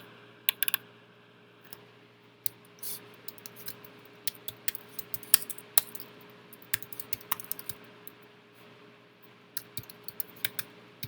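Someone types on a computer keyboard in irregular clusters of sharp key clicks, fairly faint over a steady background hum, with quiet gaps between bursts.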